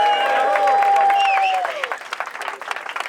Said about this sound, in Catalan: Un aplaudiment, sisplau.